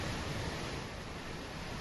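A river rushing through landslide-hit Mangan in Sikkim, a steady broadband roar of churning water, constant and fairly faint, with no voices.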